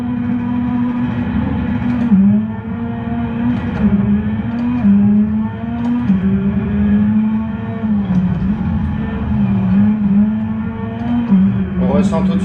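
A rally car engine in a RallyCross video game drones steadily, its pitch dipping and rising through gear changes, with a faint voice and a brief clatter near the end.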